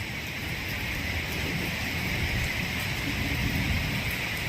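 Dense, steady rain pouring down, a constant loud hiss with a faint patter of drops and no pauses.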